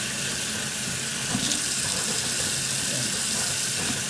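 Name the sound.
water running from a tap while washing grapes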